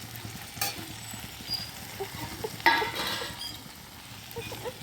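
Fried vegetables for vegetarian chowmein being stirred in a hot oiled pan, a low sizzle under repeated scraping and clinking of a spatula against metal, irregular strokes with one louder scrape midway.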